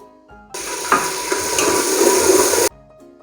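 Onion paste hits hot ghee already tempered with cumin and fennel seeds, bursting into a loud, steady sizzle for about two seconds with a few sharp spatter pops, then cutting off abruptly.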